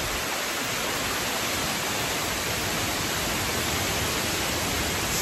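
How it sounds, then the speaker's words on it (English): Hail and sleet fall outdoors as a dense, steady, hissing roar that fills the whole clip evenly without a break, loud and close, with no voices heard over it. "Oh gosh, that's hail."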